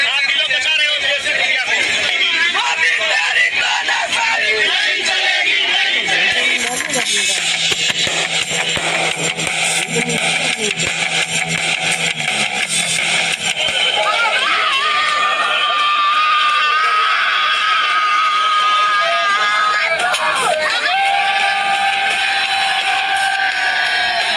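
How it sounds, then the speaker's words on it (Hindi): A large, dense crowd of protesters at Jantar Mantar in Delhi produces a constant roar of shouting and babble, with high voices and cries rising over it. "बहुत बहुत बहुत भीड़ है, लोग घुस नहीं पा रहे हैं, इतने ज्यादा लोग हैं"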